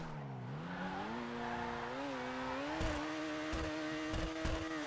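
An Overflod Entity MT supercar in GTA 5 holds a steady high engine note that climbs in pitch, with tire squeal and a few thumping bumps as it slides, close and loud.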